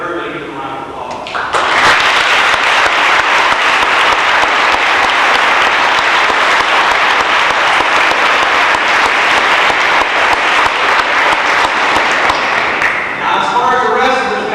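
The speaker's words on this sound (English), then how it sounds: "have everybody give them a round of applause" At a high school all-sports awards night in Janesville, an audience breaks into loud, sustained applause for the senior athletes, dense clapping that swells after a second, holds for about twelve seconds and then tapers off.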